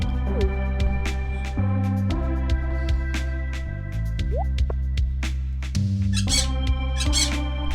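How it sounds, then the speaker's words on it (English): Parrots in Stardew Valley squawk and squeak in short bursts over the game's steady, rhythmic background music, with dripping, plopping effects scattered through it. "Hello, parrots. You're very cute."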